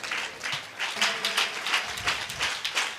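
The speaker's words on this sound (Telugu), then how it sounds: "చప్పట్లు కొడుతూ దేవునికి స్తోత్రం చెల్లిద్దాం" A church congregation claps steadily together in praise of God, a rhythmic, fairly loud wash of many hands in a hall.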